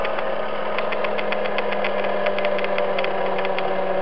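An MG-1 pulse motor generator freewheels at around 2,000 RPM, giving a steady electrical hum with a quick, regular ticking pulse layered on top. The sound is close and constant with no voices.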